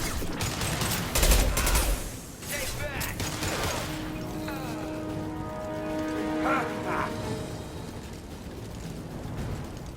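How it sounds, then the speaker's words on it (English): A Mass Effect firefight roars with bursts of gunfire and heavy booms, loud and dense at first, then thinning under a sustained tonal hum, with voices mixed in. "Taking heavy fire!"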